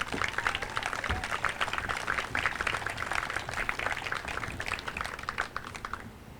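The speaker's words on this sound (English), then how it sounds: "A round of applause, please, for the Tirado family, for Awilda." Crowd applause for the Tirado family at the outdoor opening and dedication of George Tirado Sr. Park in Waterbury, a steady patter of clapping at moderate distance that tapers off toward the end.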